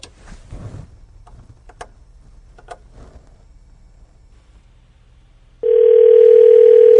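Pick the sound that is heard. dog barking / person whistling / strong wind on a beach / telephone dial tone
telephone dial tone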